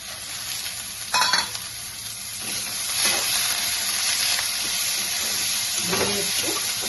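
Bottle gourd seeds fry in hot oil in a pan, a steady close sizzle broken by a clattering toss early on and by occasional stirring scrapes.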